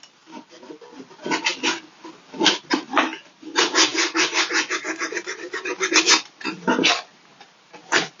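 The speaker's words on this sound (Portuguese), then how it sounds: "Já aproveita essa lixa E já vamos dar o acabamento que precisa aqui" Sandpaper rubbed by hand over a surface to finish it, producing rhythmic rasping back-and-forth strokes in short bursts and longer runs, close and fairly loud, with no talking.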